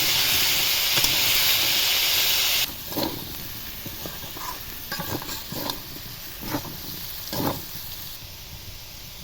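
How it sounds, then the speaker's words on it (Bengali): Potatoes frying in oil in a wok: a loud sizzle at first, then softer frying broken by several scraping stirs of a spatula at irregular intervals, close by, no talking. "আলুগুলো হালকা ভাজা হয়ে গেছে"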